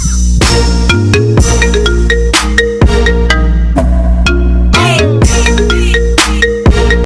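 A loud, melodic electronic phone ringtone plays close up, a repeating pattern of bright synthetic notes with no talking.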